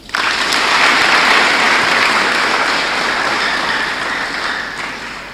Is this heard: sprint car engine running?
no